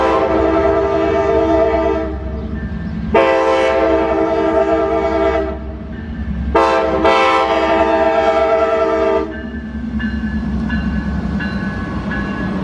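The Amtrak Floridian passenger train passes through Plant City heading back out of Tampa, its horn sounding in several long loud blasts over a steady rolling rumble of wheels.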